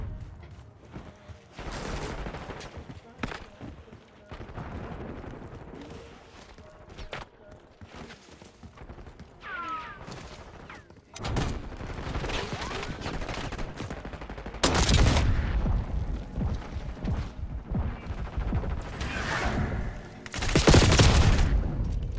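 Gunfire in Call of Duty Black Ops 6 multiplayer Hardpoint: scattered shots and bursts early on, then louder, denser automatic fire with sharp cracks and booms toward the end, amid footsteps and game ambience.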